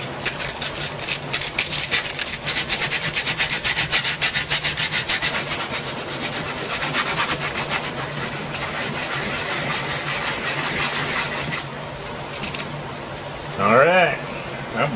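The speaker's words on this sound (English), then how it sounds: "alright, I believe we're through with sanding on these." Wooden pieces for a paper towel holder with shelf are sanded by hand, a fast rhythmic rasping scrub that is loud and close, then fades near the end before a brief thump.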